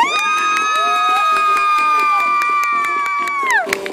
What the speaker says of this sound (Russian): Итак, аплодисменты Артему!